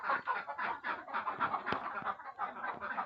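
Hens cluck in a backyard coop where they lay eggs, a continuous run of close, repeated clucks with a few sharper knocks among them.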